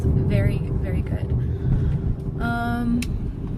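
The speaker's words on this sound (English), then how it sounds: "Handling on this car, cabin noise, listen." Cabin of a 2014 Mercedes SL 550 at high speed, near 90 mph, filled with a steady low road and wind rumble, with a few tonal whines, as someone talks over it.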